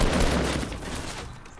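A loud burst of gunfire in Fortnite Battle Royale, with a dense crackle of shots at the start that tails off into a fading echo.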